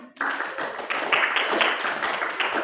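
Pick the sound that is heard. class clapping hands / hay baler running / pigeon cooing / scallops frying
class clapping hands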